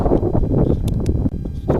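Strong gusty wind buffets a microphone on the mountain road from Jomsom to Muktinath, a loud, rumbling roar that surges and dips over a couple of seconds.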